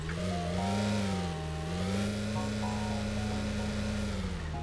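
A fall-themed jeep in Roblox Work at a Pizza Place idles and revs steadily, a continuous mid-pitched engine drone with slight pitch swells throughout, close and fairly loud over a soft game background.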